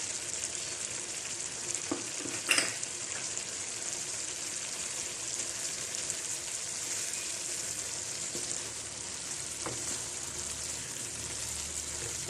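Tomatoes frying with mincemeat in a pan, a soft, even hiss of sizzling oil throughout, with a few faint utensil knocks and scrapes scattered through it.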